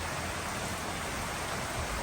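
Heavy night rain falling, a soft even hiss of downpour with no distinct drops or voices, steady and fairly faint.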